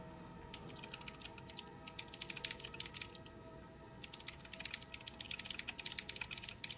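Rapid bursts of typing on a Fnatic Gear computer keyboard, dense clattering keystrokes in two runs separated by a short pause, close and clear over a low background hum.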